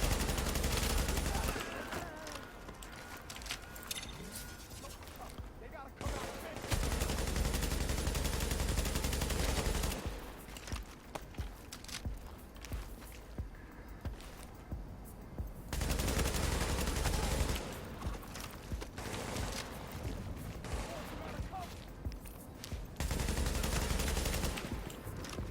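Bursts of automatic gunfire in The Division, a third-person shooter, come in dense rapid volleys separated by short lulls, loud and close over about twenty-five seconds.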